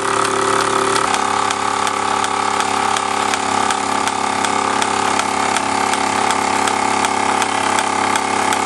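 A Mamod MEC1 toy steam engine runs on gas, making a loud, steady mechanical chuffing and whirring with a fast regular beat that carries on without a break.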